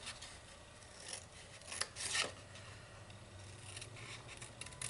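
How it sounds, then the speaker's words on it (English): Scissors snip along the score lines of a paper box, faint close cuts with short rasping slides and a brief sharper crunch near the middle, over a quiet room background without speech. "Now we are going to cut up all of the score lines."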